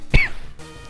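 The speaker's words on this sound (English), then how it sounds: "I didn't feel that cough coming." A single sharp cough or throat clearing, close and fairly loud, followed by a quiet room.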